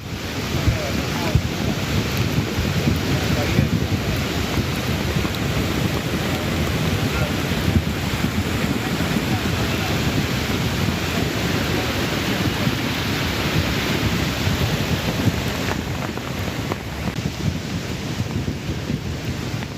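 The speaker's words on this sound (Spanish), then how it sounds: "el caudal de ese río estaba creciendo con mucha fuerza" A swollen river rushes with a strong current in a continuous, loud, broadband roar, buffeted by gusts of wind across the microphone throughout.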